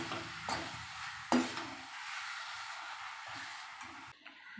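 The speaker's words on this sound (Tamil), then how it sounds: "திறந்து கிண்டி விடலாம்." A spoon scrapes and stirs mango pachadi in a pot after the lid is lifted, with a lid clank, soft sizzling and a few metallic knocks, fairly quiet and without talk.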